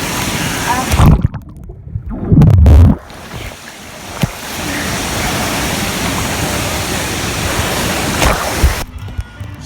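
Underwater in the lazy river at Volcano Bay water park, a dense muffled rush and wash of water surrounds the listener, with louder surging bursts near the start and abrupt changes as the microphone dips in and out.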